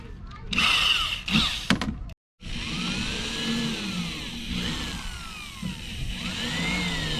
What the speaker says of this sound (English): has a piece of tape on the drill which helps him guide how deep to go into the wood